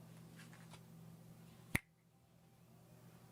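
A single sharp finger snap cracks out once, close and crisp, after a few quiet seconds of faint room noise, with no one speaking.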